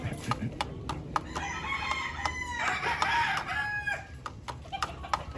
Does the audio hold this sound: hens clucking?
yes